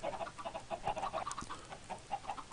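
Chickens cluck in an automated chicken farm video game, a steady run of short, overlapping clucks at moderate volume with no talk.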